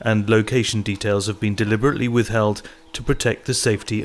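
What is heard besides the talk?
No distinct noise like a dog, phone or traffic.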